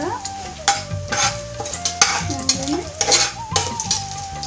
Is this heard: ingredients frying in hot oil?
yes